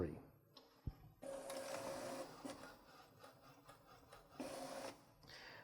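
A Sawgrass Virtuoso SG800/SG400 sublimation printer feeds paper during a front-panel maintenance routine, with whirring motor runs, clicks and a sharp mechanical clack broken into several bursts. Faint talk sits underneath.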